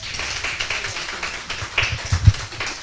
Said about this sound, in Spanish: quisiera que todos le demos un aplauso